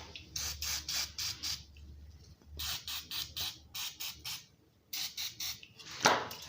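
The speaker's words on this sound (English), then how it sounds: "First we use some brake cleaner." Brake cleaner blasts from an aerosol can onto an MTD chainsaw in short, pulsing hissy bursts, several quick squirts in a row, then a pause, then more, close and fairly loud.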